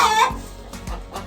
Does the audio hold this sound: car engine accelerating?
no